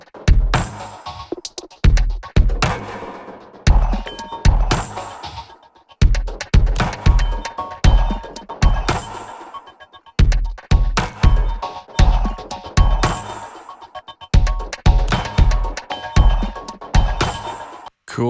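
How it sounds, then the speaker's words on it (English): Ambient electronic track built in Ableton, where MIDI notes trigger random slices of a full chime sample over a steady beat; rhythmic, repeating bursts of shimmering chimes and thumping percussion play continuously without talk. "each MIDI note triggers a different kind of random part of that full chimes"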